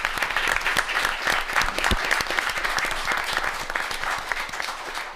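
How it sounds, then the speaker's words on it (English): A room of people at a city council meeting in Waterville, Ohio claps steadily for several seconds, dense, even applause filling the space with no talk over it. "I think she and Kenny need a round of applause"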